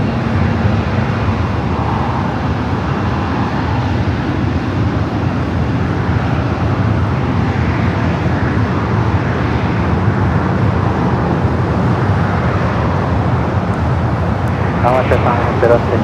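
Boeing 777-300ER taxiing at LAX toward runway 24 left, a steady low engine drone with broad rumble that holds throughout, with a voice talking over it.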